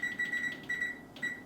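An electronic kitchen timer sets off a steady series of high, thin beeps in short repeated bursts, moderately loud and close, beside buns steaming in the kitchen.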